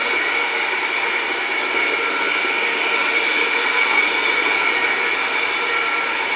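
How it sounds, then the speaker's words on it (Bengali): An iron-shafted mustard oil press machine runs with a loud, continuous mechanical drone and steady hum, unbroken throughout with no voices. "এই যে মেশিনটা, এটা কিন্তু সম্পূর্ণ লোহার একটা শ্যাফট।"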